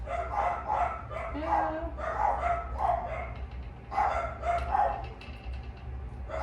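Several dogs barking indoors in a home during a fireplace makeover, with repeated sharp barks and yips in uneven bursts under a steady low background hum, fairly close.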